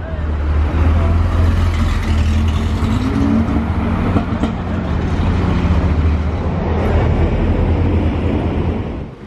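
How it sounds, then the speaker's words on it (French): A green Porsche arriving at a car gathering, its engine a loud, steady, close rumble that holds throughout with no clear rise or fall. "il y a une autre Porsche verte qui arrive"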